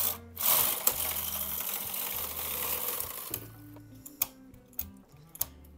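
A knitting machine runs in bursts, its carriage rattling mechanically across the bed for about three seconds, then quieter clicks and sharp ticks follow at irregular intervals with no talking.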